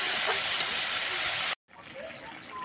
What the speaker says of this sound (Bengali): লাউ শাকের তরকারিটা তো ফুটে উঠেছে